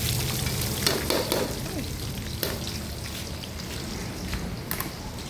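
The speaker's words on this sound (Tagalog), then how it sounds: "Ginigisa ko na yung ano, sibuyas." Onions sauté in a hot pan with steady, close sizzling and crackling. Scrapes and stirring clicks of a utensil occasionally cut through the frying hiss.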